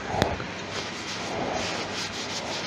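Chestnut cut and polish, a gritty, solvent-based compound, rubbed onto a driftwood snowman turning on a lathe, making a continuous close, coarse rubbing and sanding hiss with a sharp tap near the start.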